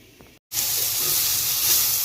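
Potatoes drop into hot oil in a home kitchen pan and set off a loud, steady, bright sizzle. A brief silence comes first, then the hiss holds close and constant to the end.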